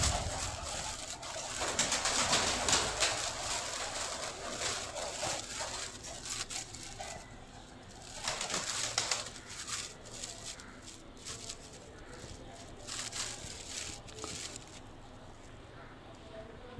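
Sialkoti pigeons coo in soft repeated bursts, close by and moderately quiet, with faint wing flutters and rustling between calls.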